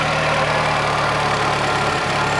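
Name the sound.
car engine idling after pressure washing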